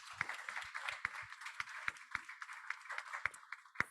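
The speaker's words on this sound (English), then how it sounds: "so round of applause for them" Scattered, fairly sparse clapping rises from an indoor audience at a guide dog graduation ceremony, with irregular claps over a few seconds and no talking.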